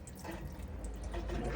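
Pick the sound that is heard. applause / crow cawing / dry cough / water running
water running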